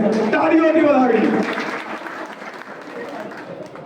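Crowd applause at a party rally welcoming about 300 new young workers, loud at first and then fading, with talk running over the clapping.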